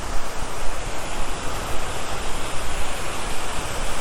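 A fountain in a small plaza in a Spanish city gives off a continuous splashing rush of running water, close and fairly loud, its level rising and falling slightly with no voices over it.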